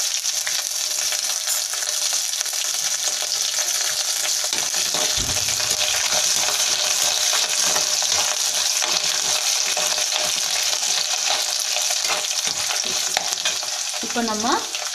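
Chana dal fries in a pan for mint chutney, a steady close sizzle with stirring scrapes throughout and a brief clink near the end.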